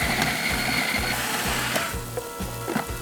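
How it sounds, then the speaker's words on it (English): A blender blitzes a mix of cheeses, including Parmesan and other hard cheeses, into a paste, whirring steadily with a rhythmic chopping pulse and no talk. "So we wanna blitz this until we get a nice kind of paste"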